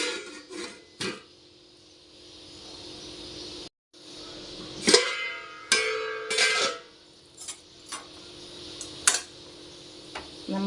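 A spoon clinks and scrapes against a cooking pot while curry with coconut milk and curry leaves is stirred, giving sporadic sharp metallic knocks and rattles of varying loudness between quieter gaps.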